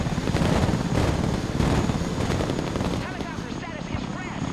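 A V-22 Osprey under heavy small arms fire in the video game Broken Arrow, a dense roar of rotor noise and rapid gunfire crackle, loud and continuous, with voices talking over it.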